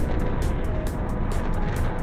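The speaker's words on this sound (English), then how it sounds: "Maxing engines." Spaceship engines at maximum power in a video game roar as dense, continuous broadband noise, loud and unbroken, with faint pulsing hiss layered on top.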